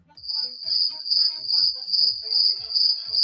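A crickets-chirping sound effect plays on its own, a dense steady high trill pulsing in quick regular bursts, close and moderately loud, with no talking.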